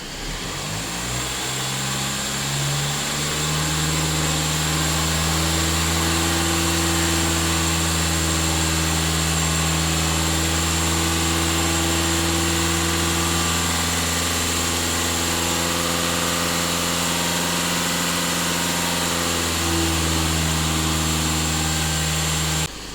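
A VW Passat B8 diesel engine held at 2,500 rpm gives a steady, loud, close drone with a constant pitch that holds for the whole stretch and eases slightly toward the end.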